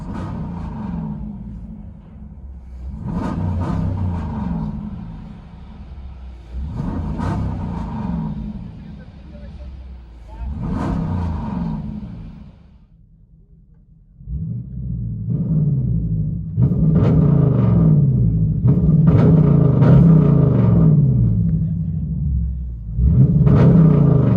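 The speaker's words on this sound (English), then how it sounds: "Dodge Durango RT. Mid muffler delete." A Dodge Durango R/T with a 5.7L HEMI V8 and mid muffler delete rumbles in bursts of deep, loud exhaust, a string of revs rising and falling before a sustained heavier roar near the end.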